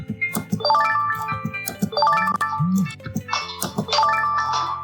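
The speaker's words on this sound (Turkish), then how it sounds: "Bu benim telefonum arkadaşlar." Mobile phone ringtone plays a repeating melodic chime phrase roughly every two seconds, loud and close, while a person talks over it.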